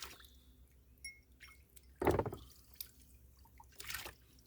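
Cold water splashes and drips over a dirty glass dug up from the soil, with faint trickles and a couple of louder splashy bursts heard up close in a quiet room.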